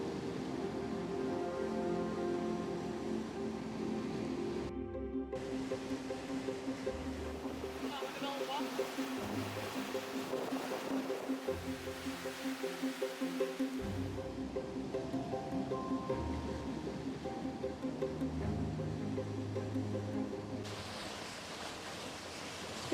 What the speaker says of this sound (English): The waves are building up pretty fast